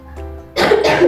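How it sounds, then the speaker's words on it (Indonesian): A single sharp cough from a woman teacher close to the microphone, preceded by a brief low hum, during a lesson. "Maaf ibu batuk."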